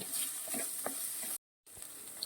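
Chopped prawns sizzle and sputter in a hot pan while being stirred, a steady close frying hiss with a few soft scrapes, cut by a brief silence near the middle.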